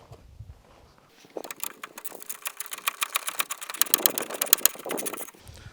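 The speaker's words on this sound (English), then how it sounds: "I may be able to get a ratchet in there this time" Ratchet working on side marker light studs on a GMC C1500 truck, a fast run of sharp, close clicks that speeds up and then stops abruptly.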